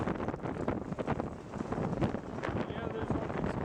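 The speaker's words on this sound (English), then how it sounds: "It's windy" Outdoors on a windy day with tumbleweed blowing and cars along the street, steady wind rushes and buffets the microphone at moderate loudness.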